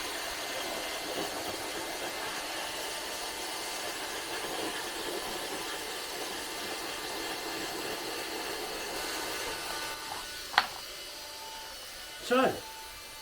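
A Leister Nexheat 300 cordless hot air welder runs with its trigger locked, giving a steady broadband blower hiss throughout, with two short sharp bursts near the end.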